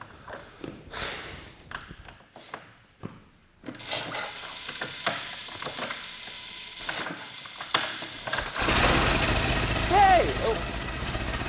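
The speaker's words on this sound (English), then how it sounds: "I'm going to pull this to start it and then slowly advance this." A Ford Model T engine is hand-cranked, giving irregular mechanical clanks and ratcheting turns, then catches and runs with a rough rattling roar near the end, with voices talking throughout.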